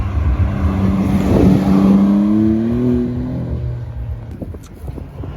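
A Maserati MC20 engine revs up and pulls away at a car show, its rising roar peaking then fading into the distance.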